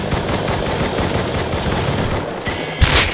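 Gunfire in the survival game Rust, a continuous rumble of shots and firefight noise, close and loud, ending in a sharp nearby crack with a brief burst of noise.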